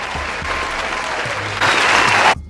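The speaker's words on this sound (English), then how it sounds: "A big round of applause" A burst of crowd applause, dense steady clapping that swells louder near the end before cutting off sharply.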